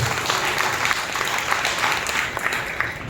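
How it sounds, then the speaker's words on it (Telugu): A church congregation clapping loudly, a dense continuous roar of many hands applauding together, steady and close throughout. "బిగ్గరగా చప్పట్లు కొట్టి ప్రభువును మహిమపరచండి"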